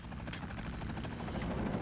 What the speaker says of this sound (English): An Afghan Air Force Mi-8 attack helicopter arrives.